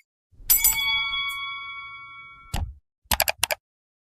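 A bright bell-like chime rings with a lingering tone, followed by a soft thump and a quick cluster of sharp clicks.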